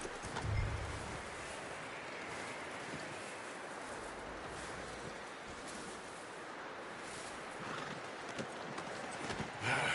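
Horse hooves clip-clop steadily in a Western video game camp scene, close and fairly quiet under a soft ambient bed with faint birds cooing, no talk.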